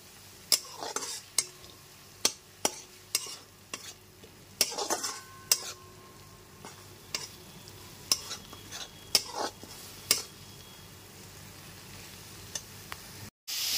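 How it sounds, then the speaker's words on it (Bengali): Onion paste sizzling in a pan while a metal spatula scrapes and taps against it in irregular strokes, close and clear, with a steady frying hiss underneath and no talking. "পেঁয়াজ বাটাটা এখানে খুব ভালো মতো কষিয়ে নিয়েছি"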